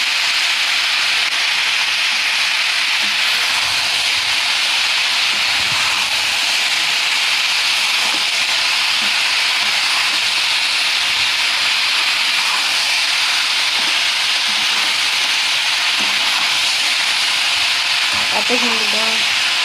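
Shredded cabbage cooks in a wok for a home vegetable dish. A constant, fairly loud hissing sizzle runs throughout, with faint stirring clinks near the end.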